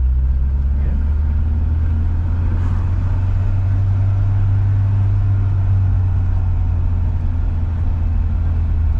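A 1973 Citroën car driving in second gear gives a steady, close, low engine drone with a constant rumble throughout and no pauses.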